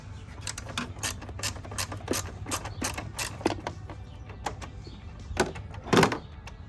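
A socket ratchet works a bolt loose in the engine bay of a Hyundai Elantra N, giving quick, irregular clicking bursts close by, ending in a louder metallic clack, with no voices.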